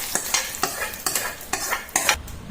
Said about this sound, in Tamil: இப்போ தாளிச்சத இந்த ரசத்தில் போட்டுக்கிறேன்.